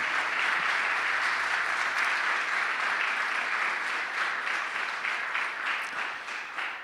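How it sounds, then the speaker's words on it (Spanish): A church congregation gives long, even applause to the Lord, a dense continuous clapping that slowly thins and fades toward the end. "Dale un aplauso al Señor"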